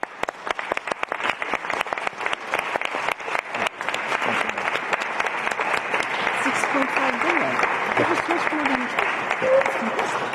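Sustained audience applause fills a fundraising conference at the National Stadium in Warsaw held in support of Ukraine, dense and loud throughout, with faint voices and cheers rising underneath toward the end.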